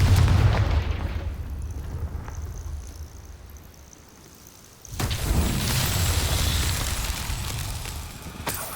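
A Confringo fire spell in Hogwarts Legacy bursts with a loud, broad blast that drops away, then a second sudden explosive roar hits near the middle and holds as a heavy rumbling wash to the end.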